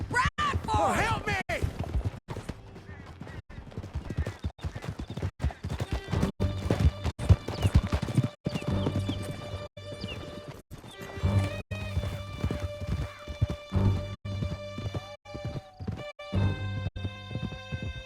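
Horses gallop with rapid clip-clop hoofbeats and whinnies during a chase on horseback through a canyon in Red Dead Redemption 2, mixed with game music and shouting voices throughout.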